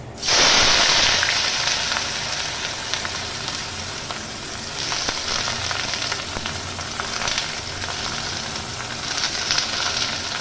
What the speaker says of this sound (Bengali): এই গরম তেলের মধ্যে আমি দিয়ে দিচ্ছি কুচানো পেঁয়াজ